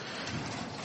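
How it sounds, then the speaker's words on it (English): Steady rain falls outdoors during a rainstorm, a dense, even hiss of drops on surfaces with no break, alone and fairly loud throughout. "if we got a little rain happening."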